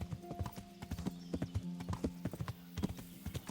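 Horse hooves clip-clop on the ground in the video game Kingdom Come: Deliverance, a quiet, fairly close, irregular walking rhythm over a steady low hum.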